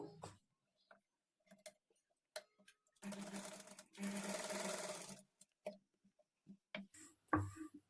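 Two short bursts of a sewing machine stitching lining to the main fabric of a princess-cut padded blouse, a close rapid whir with quiet gaps and scattered small handling clicks around it.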